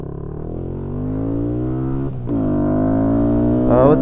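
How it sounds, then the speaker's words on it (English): Kawasaki Z125 Pro motorcycle engine running steadily while riding, a loud continuous drone with harmonics that rises in pitch, dips briefly around a gear shift, then climbs again as it revs up. "I am riding on my Kawasaki Z125 Pro."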